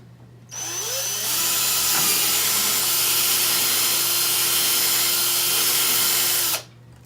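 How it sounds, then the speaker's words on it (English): A power drill runs continuously for about six seconds, a steady loud whir with grinding as it bores through wood, then stops abruptly. "We're going to drill the second hole."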